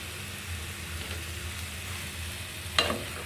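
Chopped vegetables, including snake gourd, frying and being stirred in a pan with spices, giving a steady soft sizzle throughout and a single sharp scrape or clink near the end.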